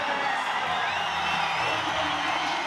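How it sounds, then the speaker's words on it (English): Crowd at a Street League skateboarding contest in Foz do Iguaçu, cheering and whooping loudly in a continuous wash, with scattered whistles rising above the roar. "you can hear this crowd in Foz going crazy"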